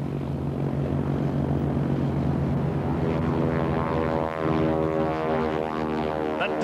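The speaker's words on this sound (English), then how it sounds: "That distinctive rasp is from the propeller tips as they approach supersonic speed." Several North American Harvard propeller airplanes take off together with a loud, continuous rasping drone that is close and steady, its tone shifting slightly as they climb away; there is no talk.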